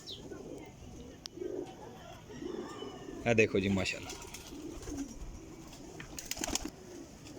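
Jansire pigeons, a Sialkot breed, coo softly in a loft, the calls low and intermittent beneath someone speaking close by.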